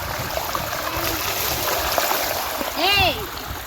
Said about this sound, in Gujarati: ઓલા ભાઈ જો અહીંયા પાણી વાળે છે